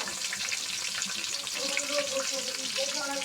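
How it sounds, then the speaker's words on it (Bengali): Onions dropped into hot oil in a pan on a clay stove fry with a dense, steady crackling hiss throughout, fairly close, with faint bubbling tones rising underneath. "দেখেন, এখন আমরা আগে পেঁয়াজ দিচ্ছি। আমি আগে পেঁয়াজগুলো দিয়ে দিচ্ছি।"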